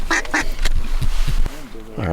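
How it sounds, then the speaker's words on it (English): Ducks quacking among decoys at dawn during an Alberta waterfowl hunt, several close, loud nasal quacks in quick succession with a calling voice or honk-like tones at the end. "we've already got ducks in the decoys"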